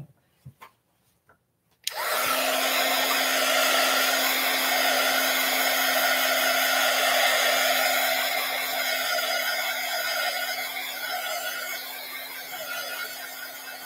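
After a few soft handling knocks, a hair dryer switches on and runs at a steady, loud, whining hum, drying something wet, then eases slightly quieter toward the end.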